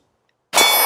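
A 9mm bullet strikes a 10-inch steel target plate, giving one sharp metallic clang that rings on after silence.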